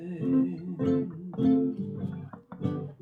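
A guitar strums a short chord progression, a few chords changing every half second or so, played fairly softly with no voice.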